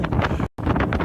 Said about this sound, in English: it's crazy windy out there.